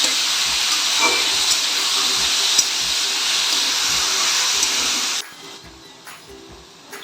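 Potatoes fry in oil until browned, a loud, steady, close hiss of sizzling that cuts off abruptly near the end, leaving faint clicks.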